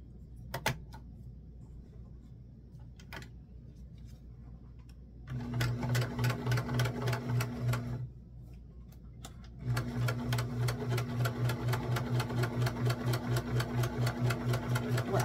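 A sewing machine stitches a dress seam in two steady, rapid runs of whirring needle strokes, each lasting a few seconds. Quiet pauses with a few soft clicks separate the runs, and the machine sounds close by.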